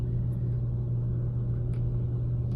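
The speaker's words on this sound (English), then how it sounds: "That's my air conditioning unit" A room air conditioning unit runs steadily on a hot day, giving a constant low hum and rumble that stays loud and even throughout, with a few faint clicks above it.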